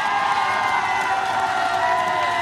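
A concert crowd at a live performance applauds and cheers in a dense, continuous wash of clapping and shouting that holds at a constant loud level throughout.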